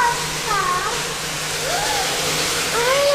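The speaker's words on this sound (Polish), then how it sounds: "Wow, doszliśmy do wodospadu." Underground river waterfall inside the Calaveres cave in Spain, a steady broadband roar of falling water filling the chamber throughout, with faint whistling tones drifting over it.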